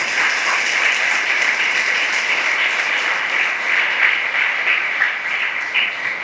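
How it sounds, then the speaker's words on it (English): Audience applause at a school investiture ceremony, a dense, steady wash of many hands clapping that holds at an even, loud level throughout without pause. "let us give a round of applause to all the sisters of presentation"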